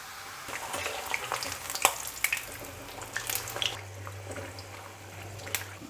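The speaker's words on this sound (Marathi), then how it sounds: "त्याच्यात आपण आपलं पकवान तळायला टाकूयात।" Pakwan, a fried dough, sizzles in hot oil with a steady crackling hiss. A low hum sits beneath it, and occasional sharp pops and spatters stand out close by.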